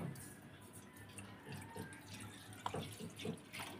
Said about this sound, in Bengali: পরিমাণ মতো জল দেব